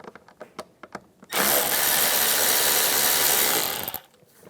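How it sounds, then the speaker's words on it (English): An 8mm socket on a powered driver loosens a hose clamp bolt during MAP sensor replacement on a 2010-2016 Cadillac SRX. A few light clicks come first, then a loud, continuous whir lasts about two and a half seconds before stopping. "Use an 8mm socket."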